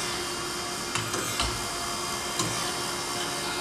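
An Okamoto ACC-16.32DX three-axis automatic surface grinder grinds in a workshop, giving off a steady, even mechanical whir with a few faint ticks and clicks scattered through it.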